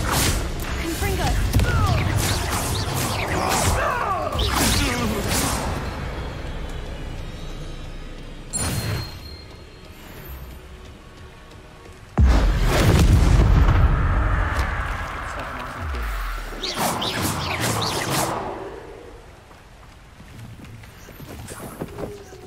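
Confringo blasting spells from Hogwarts Legacy burst in repeated loud explosive blasts with whooshing trails, several separate bursts spread across the stretch, with a voice speaking in places.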